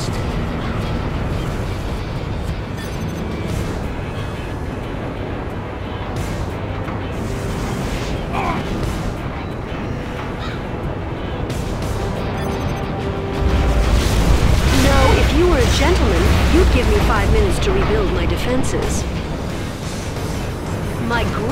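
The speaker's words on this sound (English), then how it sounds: "Our Scud Storm has been launched." The Scud Storm missile superweapon launches in Command & Conquer Generals. A long rumbling roar swells into a heavier burst of booming explosions partway through, with speech mixed in.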